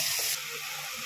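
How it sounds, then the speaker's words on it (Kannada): Pasta cooking water poured into a pan with tomato and Maggi masala, a steady bright watery rush that runs through the whole moment, loud and close. "ಪಾಸ್ತಾ ಬೇಯಿಸಿದ್ದು ವಾಟರ್ ಸ್ವಲ್ಪ ಹಾಕಿ"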